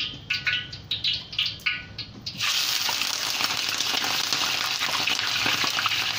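Prawns dropped into a hot pan: a few soft clattering bursts, then a sudden loud, steady sizzle that hisses on without a break, close by and with no talking.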